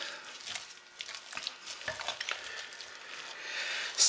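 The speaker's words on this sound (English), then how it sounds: "It's getting a little hard to stir." Thick hot process soap batter, setting up as cold embeds cool it, being stirred in a pot, giving a steady close scraping and squelching that continues without pause, with no voices.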